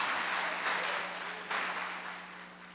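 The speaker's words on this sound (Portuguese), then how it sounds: "Diga obrigado, Jesus, e vamos aplaudir a Ele." Church congregation at a Sunday service applauding, a fairly soft, steady wash of clapping that swells briefly midway and then tapers off.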